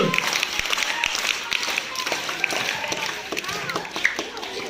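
An audience at a school event claps for a student dressed in costume, scattered steady applause from a group of children while an adult speaks over it.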